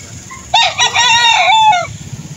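A rooster crows loudly and close in one long drawn-out call at a chicken market, with a steady background murmur of other birds.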